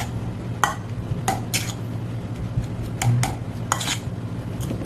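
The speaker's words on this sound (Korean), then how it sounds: "지금은 너무 뜨거워서 선생님이 숟가락으로 반죽하는 거고, 으깨는 거고" Hot boiled potatoes mashed with a metal spoon in a bowl for gnocchi, seasoned with salt and pepper, giving sharp clinks and scrapes of metal on the dish every half second or so, close and alone.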